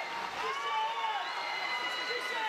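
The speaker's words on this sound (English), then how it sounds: "He takes the acclaim of the crowd." A crowd at a powerlifting meet applauds and cheers after a 925 lb world-record deadlift, a steady wash of clapping and shouts throughout, with an announcer's voice running over it.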